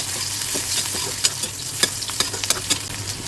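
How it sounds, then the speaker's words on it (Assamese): Onions and green chilies frying in oil left from frying soybean chunks, a dense steady sizzle broken by sharp scraping clicks of a spatula stirring the pan, close up with no talking. "পিঁয়াজখিনি অলপ লাল হোৱালৈকে ভাজিব লাগিব"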